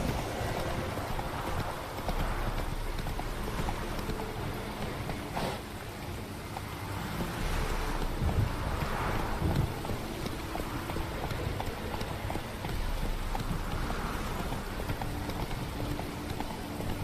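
In the Witcher 3 video game, a horse gallops with a continuous, rhythmic drumming of hooves at moderate loudness, mixed with game ambience, across the whole stretch and without talk.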